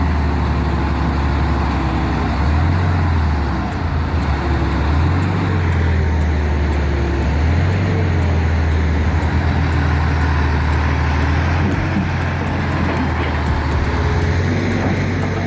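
A Hyundai excavator labors stuck in a swampy mess, its engine droning loud and steady throughout with deep low rumbling surges repeating every couple of seconds as it strains against the mud.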